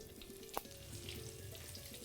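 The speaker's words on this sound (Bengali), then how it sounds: "আর সব শেষে যেটা ভেজে নিতে হবে সেটা হলো উচ্ছে।" Bitter gourd fries in a pan, giving a soft, steady sizzle at low level, with one brief clink partway through.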